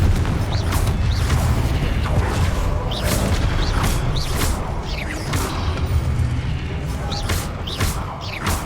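Confringo blasting spell from Hogwarts Legacy, going off in a dense battle: repeated booming impacts and whooshing bursts over a continuous loud rumble, with short high streaks and crashes spread throughout.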